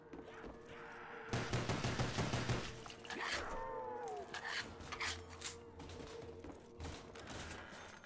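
Rapid gunfire in a Call of Duty zombies match on the Kino map, a dense burst of repeated shots about a second long, loud over the game's music and effects, followed by scattered impacts and in-game sounds.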